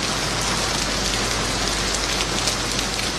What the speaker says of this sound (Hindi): इस्लामाबाद और रावलपिंडी में मूसलाधार बारिश का सिलसिला वक्फे से जारी है।